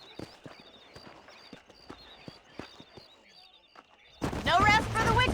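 Horse hooves clip-clop steadily in the video game Red Dead Redemption, quiet rhythmic hoofbeats over a faint ambient tone, ending with someone speaking loudly over them.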